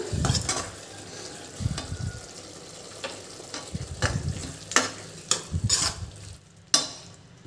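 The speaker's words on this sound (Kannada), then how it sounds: "ಈಗ ಬೆಂಡೆಕಾಯಿ ಫ್ರೈ ಮಾಡಿಟ್ಟಿದ್ವಲ್ಲ, ಈಗ ಹಾಕ್ಕೊಳ್ಳೋಣ" Fried okra stirred into a sizzling ladyfinger gravy brings a continuous frying hiss up close, punctuated by repeated clanks and scrapes of a spoon against the pan.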